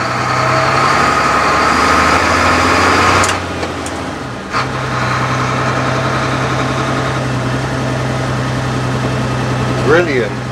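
A London AEC Routemaster bus runs with a steady low diesel drone, holding loud and constant throughout, with a brief dip in the middle and a few faint clatters near the end.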